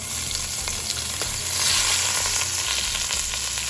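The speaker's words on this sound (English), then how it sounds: "And now I'm going to sear the other side for about 4 to 5 minutes." Chicken searing in a hot pan for French braised chicken, a dense continuous sizzle and crackle with occasional stirring sounds, close and steady.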